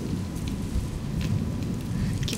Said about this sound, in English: I keep taking off my headphones because I keep literally thinking it's thunder.